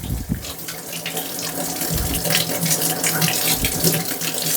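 Mangoes being rinsed one by one under a running kitchen tap, a loud, steady splashing water stream in a sink with small bursts as the fruit is turned in the flow.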